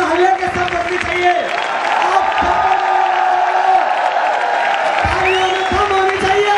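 A large indoor crowd at a business event in Talkatora Stadium, New Delhi, claps and cheers with whoops, a sustained roar at close range with a voice and tonal sounds running through it.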